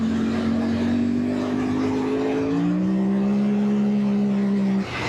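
A Yamaha Tenere motorcycle engine revs hard on firm packed sand, a steady, close, loud drone whose pitch climbs through a gear change and then cuts off sharply near the end, with wind noise underneath.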